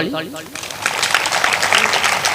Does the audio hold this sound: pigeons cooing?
no